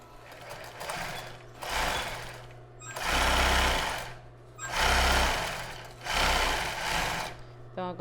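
Sewing machine stitching a children's bra, four loud close bursts of rapid stitching separated by short pauses, with a voice speaking faintly between runs.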